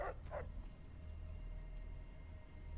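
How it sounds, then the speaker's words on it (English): A dog in Fallout: New Vegas gives two quick, faint barks right at the start, then a low steady game ambience hums on with nothing else standing out. "A dog."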